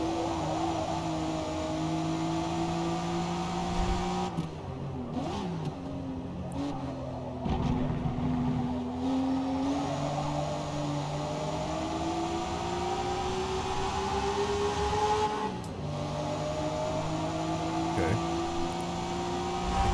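A car engine in Forza Motorsport drones and climbs through repeated revs and upshifts, the steady whine rising and dropping across gears at moderate level, with faint tire and road noise beneath and no talk.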